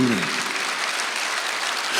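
Congregation applause during an Easter Sunday church service, a broad, steady wash of many hands clapping at moderate volume from start to finish.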